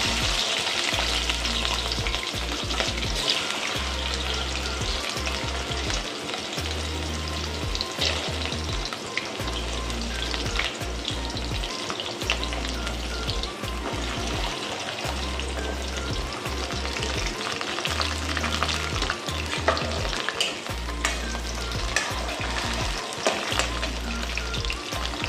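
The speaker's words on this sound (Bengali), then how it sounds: "এবার আমি একে একে সবজিগুলো ভেজে নিচ্ছি।" Chopped vegetables, starting with small gurhi kochu taro, fry steadily in hot oil for a Bengali katwa data tarkari, a dense continuous sizzle with occasional stirring scrapes, close and loud throughout with no voices.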